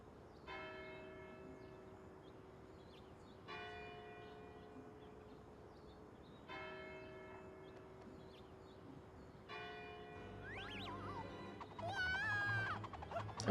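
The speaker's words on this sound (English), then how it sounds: "And the bell's gonna ring more than 3 times" Church bell tolling in the Magical Mirror Starring Mickey Mouse video game, about four slow, evenly spaced rings with long ringing decay, followed by rising whistly game tones at the end.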